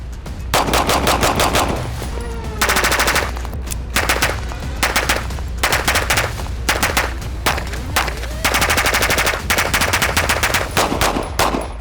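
A hot, heavily used gun fires its final magazines of a 3,000-round test, loud close bursts of rapid shots in repeated strings separated by short pauses for reloading.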